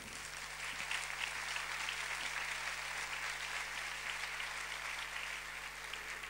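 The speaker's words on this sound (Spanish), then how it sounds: "Un fuerte aplauso para Lucía López Nevado" Steady audience applause at a gala presenting the Xana, Xanina and maids of honour of the El Bollo 2016 festival, a continuous even clapping over a low hum.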